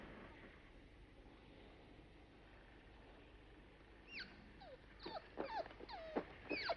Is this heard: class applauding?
no